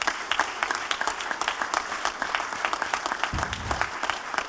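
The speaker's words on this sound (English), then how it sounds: "Please give yourself and these people a round of applause." A crowd at a candidate forum claps with distinct individual hand claps, scattered and moderately loud, brief and steady throughout.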